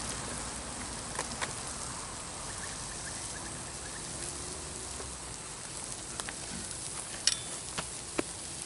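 Food sizzles and crackles on a freshly oiled, hot BBQ plate outdoors, a continuous frying hiss with scattered sharp pops and occasional scrapes of a utensil, close and steady.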